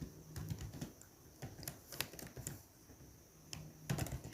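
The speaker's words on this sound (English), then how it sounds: "now I'm typing here a block of code" Quiet, irregular clicks of fingers tapping a computer keyboard while entering a block of Python code, in short bursts with brief pauses between them.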